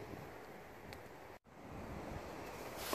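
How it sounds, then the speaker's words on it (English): Wind blowing outdoors in a garden where potato towers are built, a broad rushing buffet against the microphone that briefly drops out and then gusts harder. "I'm real sorry that it's windy out here"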